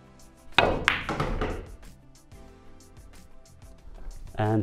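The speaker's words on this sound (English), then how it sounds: "And this is the stun shot." A pool cue strikes a billiard ball for a stun shot, giving a sharp close knock followed by a second click as the balls meet, with someone talking afterward.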